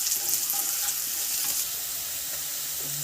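Onions and curry leaves sizzle steadily in hot oil for a fish curry, a continuous bright frying hiss that stays loud and close throughout, with faint stirring scrapes and no talking.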